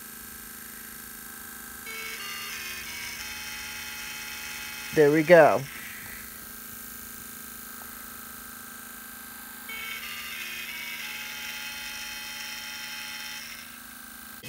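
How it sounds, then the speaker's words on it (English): A Snap Circuits toy disco motor whirs with a thin electric hum through the clip, joined midway by a short burst of rising electronic chirps from the kit's speaker, with brief talk and louder whirring stretches near the start and end. "the disco motor will begin to spin while the speaker makes noises"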